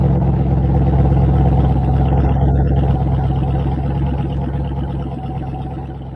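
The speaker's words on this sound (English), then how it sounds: "So this is the B-roll package that Ram sent out, and you can tell the truck's got a lot of engine" A RAM TRX pickup truck's engine rumbles deep and loud at close range in a continuous throb, then slowly fades over several seconds.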